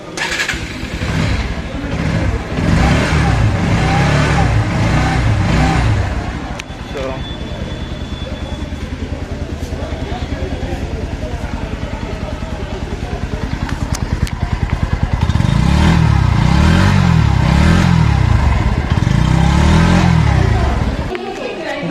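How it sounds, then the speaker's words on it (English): A 2021 Bajaj Pulsar NS125 BS6 motorcycle engine cranks and catches, idles with a steady throb, then revs up several times in rising and falling bursts, loud and close. "Now let's crank up this motorcycle once."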